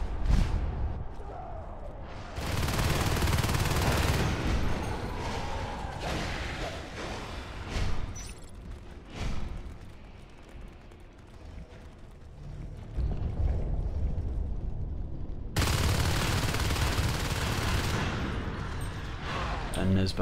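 Marines fire guns in Natural Selection 2: bursts of rapid automatic gunfire come in loud clusters, then recede into quieter skirmish noise with whooshes before another heavy burst, with a commentator talking throughout.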